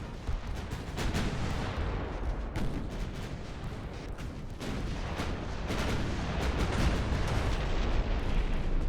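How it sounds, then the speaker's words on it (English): Naval guns boom in the Ultimate Admiral Dreadnoughts warship game as heavy ships are shelled, a dense, loud barrage of overlapping blasts and rumbling explosions running without pause. "so I can just shell their large ships with impunity"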